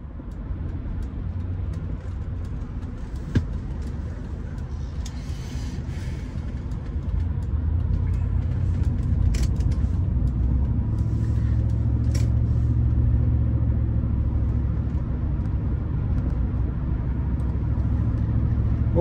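Steady, loud road rumble from inside a Rolls-Royce car on a drive, with a continuous low engine and tyre drone that thickens partway through, plus a few faint knocks and no speech.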